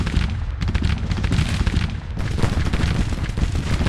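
Massed rifle fire and booming volleys from a Union battle in Grand Tactician: The Civil War 1861-1865 video game roll on continuously, with dense overlapping cracks and low rumble that stay loud throughout.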